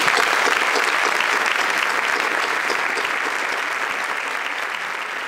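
An audience at a town festival proclamation in Caravaca claps loudly and steadily for a bishop, a dense wash of applause that fades slightly toward the end.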